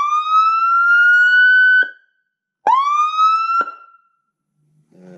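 A UK fire engine's Whelen siren on its manual tone gives two loud rising-and-falling wails close by, each cut off abruptly, followed by a brief faint rumble.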